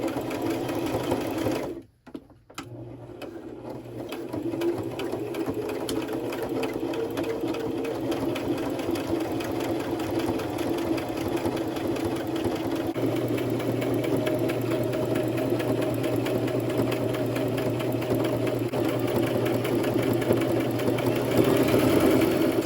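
A sewing machine stitches a maxi dress, running in a steady, loud mechanical whir that stops briefly near the start and then keeps going for a long stretch, close by with no talking.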